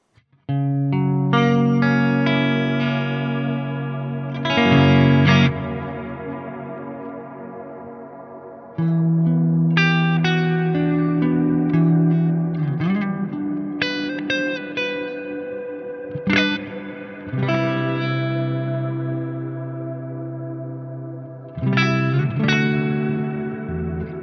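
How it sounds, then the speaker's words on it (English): Electric guitar chords and single notes ring out through a Strymon BigSky MX hall reverb, each strum swelling and decaying slowly into a wide, lingering space, played alone at moderate volume. "The Hall sound on the original Bigsky was always my go-to, my main reverb sound."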